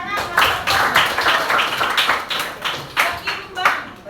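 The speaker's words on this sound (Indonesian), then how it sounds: "Tepuk tangan." Classroom of people clapping together, a brief burst of rhythmic hand claps fairly close, with loose uneven timing and some overlapping background noise.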